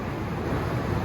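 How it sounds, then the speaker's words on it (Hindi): A flooded river in Himachal roars past in a steady, dense, broadband rush with no pauses, loud and close, mixed with some wind noise on the microphone. "नदी का फ्लो बहुत तेज़ है।"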